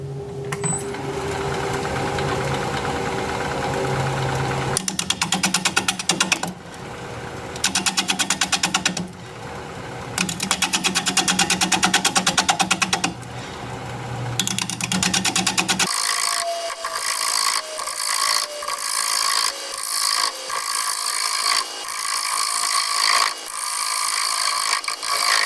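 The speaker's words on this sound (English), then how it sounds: "We're going to be turning at 550 RPM, 5/8" bowl gouge, mask, and face shield on." Plum crotch wood turned on a lathe at 550 RPM with a 5/8-inch bowl gouge, a loud continuous scraping and hissing cut with rhythmic surges, shifting to a brighter, harsher rasp partway through.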